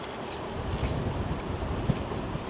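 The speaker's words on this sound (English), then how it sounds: "And it's very, very windy down here." Steady wind buffeting the microphone with a broad rushing roar, like gusts by the sea, continuous and fairly loud with no voices; strong wind by the sea.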